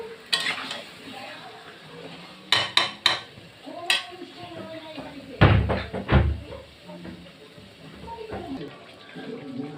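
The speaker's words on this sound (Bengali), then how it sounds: "দেখতে পাচ্ছ মাংসটা আমি কষছি, গ্যাসটা জোরেই দেওয়া আছে" Meat for kosha mangsho is stir-fried over high gas flame, with scraping and clattering spatula strokes against the pan over a low sizzle, close and fairly loud, with a voice heard speaking.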